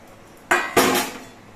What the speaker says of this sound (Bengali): এবার এর মধ্যে যে চিংড়ি মাছগুলো ভেজে রেখেছিলাম সেই চিংড়ি মাছগুলো দিয়ে দিচ্ছি